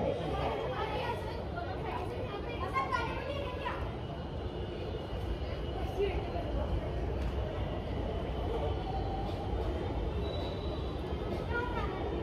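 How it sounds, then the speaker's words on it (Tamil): A train pulls out from a railway platform at a station in Nagpur, its rumble spread out and steady under busy crowd chatter and children's voices, fairly faint and distant. "ஏடா அடுத்த ட்ரெயின் போயிடும் போலேடா."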